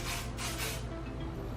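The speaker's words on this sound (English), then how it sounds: "so then I'm just gonna go back and put a little bit of spray" Hair spray hisses onto curled hair in a steady continuous spray with a few stronger pulses, close to the listener and heard alone without talking.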